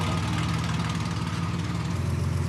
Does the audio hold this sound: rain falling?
no